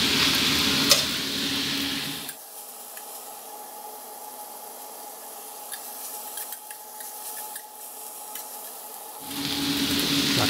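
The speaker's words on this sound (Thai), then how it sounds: "ผัดให้กระหล่ำปลีโดนกับกระทะน้ำมันร้อนๆเลยครับ" Cabbage sizzles loudly in hot oil while being stir-fried, dropping to a quieter crackle in the middle before the loud frying returns.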